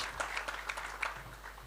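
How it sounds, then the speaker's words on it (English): An audience at the Plug and Play Armenia Expo 2026 startup event claps to welcome a speaker on stage: a dense, even patter of many hands, moderately loud and continuous throughout. "another round of applause"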